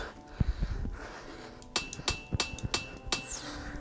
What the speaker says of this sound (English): Let's hammer these down to flat plates.